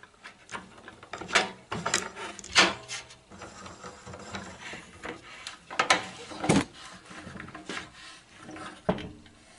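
A clamp is cranked tight to hold a car front wing panel on a board, giving a series of irregular ratcheting clicks and wooden knocks with scattered louder clacks spread over several seconds.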